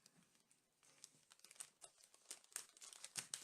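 Paper being folded and creased by hand to make Halloween treat bags with Stampin' Up! supplies: a quiet run of crinkling and rustling bursts, close up and faint, growing busier toward the end.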